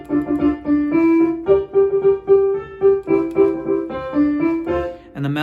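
Piano playing the chords and melody of a song, with a rhythmic chord pattern under a single-note line, played up close and moderately loud with no talking.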